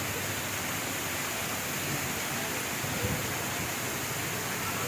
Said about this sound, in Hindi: और हवा के साथ है बारिश, बहुत तेज़ बारिश है, बहुत ज़्यादा तेज़।